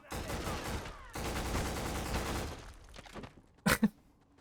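AK rifle fire in the video game Black: two long automatic bursts, a brief pause between them, then a pair of sharp single shots after a quieter stretch.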